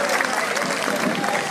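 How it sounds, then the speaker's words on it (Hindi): Applause from a crowd at a sit-in protest at Jantar Mantar in Delhi, a dense wash of clapping holding steady across the whole short stretch, with voices mixed in. "आप जोरदार तालियों के साथ एक बार समर्थन करिए"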